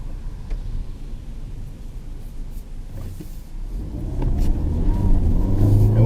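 Peugeot 3008 SUV under hard acceleration, its engine rising from a low steady rumble to a louder, building drone heard from inside the car, with no talking over it.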